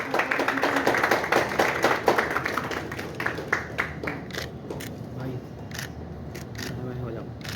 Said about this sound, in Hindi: भाई ताली बजाने के लिए और बार बार बोलना पड़ेगा।